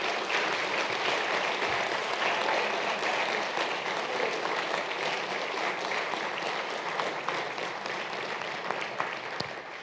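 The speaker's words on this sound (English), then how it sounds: "and Drew Bolin, president of Lincoln Club, a round of applause for hosting tonight's event." An audience at a U.S. House 5th Congressional District debate applauds steadily for about ten seconds, a dense and even wash of clapping from many hands that holds at a constant level throughout.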